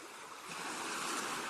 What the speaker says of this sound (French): C'est le bruit des vagues